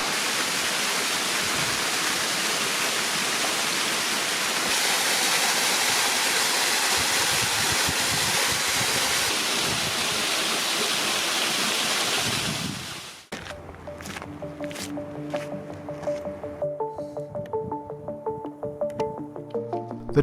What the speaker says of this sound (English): Waterfalls add natural action along the trail.